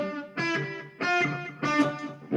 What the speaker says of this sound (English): With a short delay, you can hear it just a microsecond after I play the note.